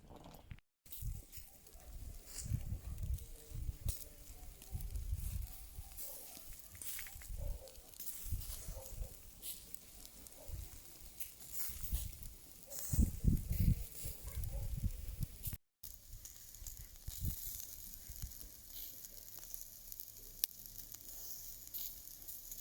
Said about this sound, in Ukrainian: Ось щось він сильно кипить.